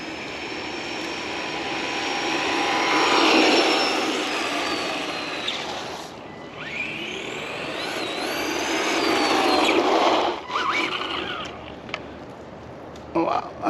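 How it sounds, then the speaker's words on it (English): An Arrma Vorteks RC car on a brushed 12-turn motor and 2S power runs with a continuous high whine that rises and falls as it speeds past, with a voice talking over it. "let's see what it does on 2S on the brushed 12-turn motor"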